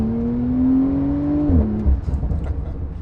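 Twin-turbocharged Porsche 911 Turbo S engine producing a steady, muted exhaust drone that rises slightly in pitch, then drops abruptly into a rougher, fluttering rumble, heard close and alone.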